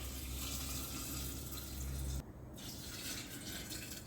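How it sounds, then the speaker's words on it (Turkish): Water pours steadily from a tap or jug over fig fruit in a container for homemade vinegar, a close continuous stream that cuts off sharply partway, followed by softer trickling and ambient sound. "Ve üzerine de meyveleri örtecek kadar su koyacağım."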